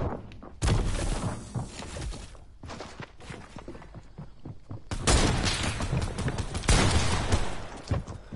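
Video game gunfire rattles in rapid, loud bursts, with a quieter gap in the middle before the heavy shooting resumes and continues to the end, with no talk over it.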